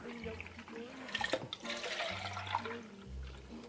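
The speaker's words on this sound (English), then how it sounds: "So for 1 can of crushed tomatoes, you're going to add 1 can of water." Water poured from a can into a pot of crushed tomatoes for a gravy or sauce, a faint splashing pour in short bursts, with a voice speaking softly alongside.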